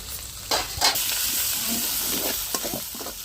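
Chicken curry masala with ginger-garlic paste, mint and coriander sizzles loudly in a hot pan, a steady close hiss broken by scraping stirs.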